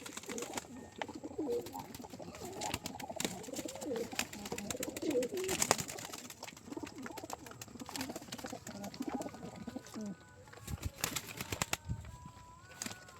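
Young pigeons for sale, kept in a loft during the rainy season, coo softly and steadily amid scattered wing flaps, rustling and faint chirps in a busy, close-miked setting.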